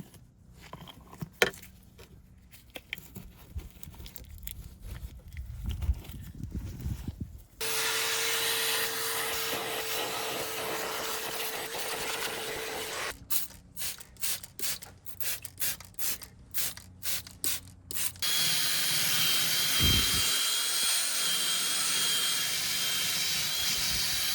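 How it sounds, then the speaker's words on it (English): Shop vac running steadily while cleaning debris from the seat area of a 13-year-old, 150,000-mile 2013 BMW X3 28i, a continuous loud suction drone broken by a stretch of rapid on-off bursts before resuming. "hitting it one more time with a shop vac"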